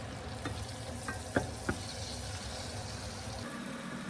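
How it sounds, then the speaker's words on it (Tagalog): Burger patties sizzle steadily in a hot pan, a constant crackling fry with a few soft scrapes and taps of a utensil, close and fairly quiet. "At habang nagpiprito, isabay na natin ang pagluluto ng gravy."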